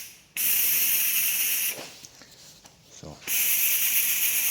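A spray gun applying candy gold powder coat to Toyota Glanza parts gives two bursts of loud, steady hiss, separated by a short break with a brief spoken word.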